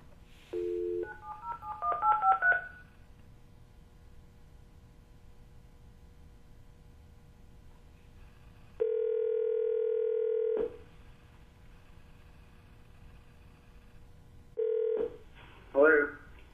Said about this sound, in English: Dial the number and connect.